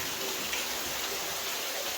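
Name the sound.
heavy rain at old lead mine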